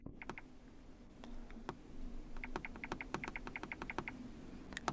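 Someone types a numeric PIN on a Lenovo Yoga Book 9 keyboard, producing a close, quiet series of quick key taps. The taps are sparse at first, then run in a brisk steady burst with a low hum underneath.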